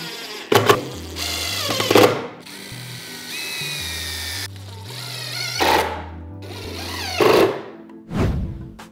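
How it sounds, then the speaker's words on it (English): A power drill whirs in several short bursts with pauses between, its pitch rising and falling as it pre-drills, countersinks and drives screws into a wooden table saw jig. "We're just doing a quick little pre-drill and countersink so we can drive a few screws"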